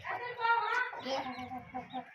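Rooster and hens clucking close by in a backyard Aseel flock, a busy stream of overlapping clucks and calls pecking at a plastic egg, with someone talking over them.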